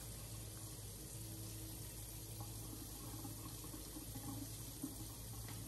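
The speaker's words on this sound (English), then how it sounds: "let's get the hot water going." Hot water pours from a tap into a sink, a faint, steady rushing hiss that continues unbroken throughout.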